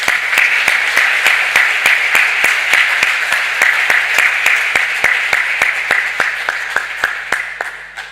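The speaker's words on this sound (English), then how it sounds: "Maybe another round of applause for Lebanon and Croatia." A room of delegates at an intersessional meeting gives a steady round of applause, dense and even for about eight seconds with sharp regular claps cutting through, fading slightly toward the end.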